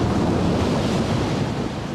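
Ocean waves crash in a steady, loud roar of surf mixed with wind noise, heard alone without any voices.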